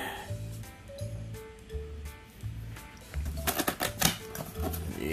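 Cardboard box of a PS5 console being opened, with a series of close scraping, tapping and rustling handling noises that grow busier and louder toward the end.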